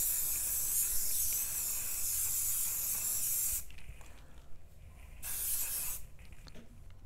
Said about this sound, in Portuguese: Eu vou passar um spray fixador aqui.